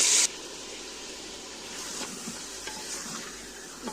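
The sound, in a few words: mutton frying and being stirred in a pot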